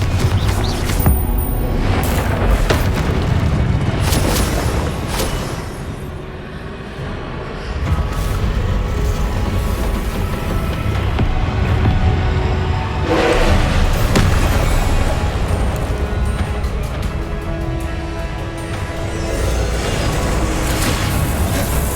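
The Confringo fire-blast spell in Hogwarts Legacy makes loud booming bursts and crashes over a dense game soundscape, with several heavy impacts spread across a long stretch and no talking.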